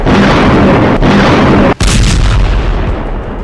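Israeli air strikes, a dense, loud roar of explosions and heavy booms that stays constant, breaks off sharply for an instant, then resumes and slowly fades.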